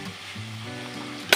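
Chickpea and paneer curry sizzles in a pan as it is stirred, a close steady frying hiss ending with a sharp metallic clink of the utensil against the pan.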